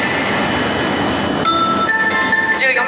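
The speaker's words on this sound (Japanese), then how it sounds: "14番乗り場から白鷹号東京行き発車いたします。" A Hokuriku Shinkansen Hakutaka train departs from platform 14 at Tsuruga station, giving a steady loud rumble and hiss with tonal whines rising near the end as it pulls away, while a platform announcement plays over it.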